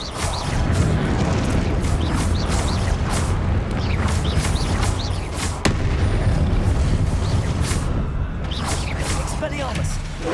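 Dense Hogwarts Legacy spell combat where Confringo blasts boom and burst again and again, loud and continuous, with a voice speaking over the fighting.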